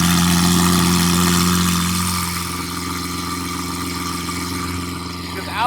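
A Lamborghini V12 fitted with a valved Gintani straight-pipe exhaust and tune rumbles in a loud, steady, deep drone that eases slightly in level after about two seconds, then lifts briefly at the end.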